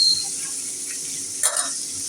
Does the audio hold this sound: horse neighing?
no